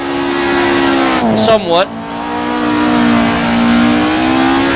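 A 1970s Ford Escort RS 1600 racing around the Nordschleife in Assetto Corsa, its engine holding a loud steady drone that briefly dips and climbs through a quick gear change before settling again, with a voice speaking briefly over it.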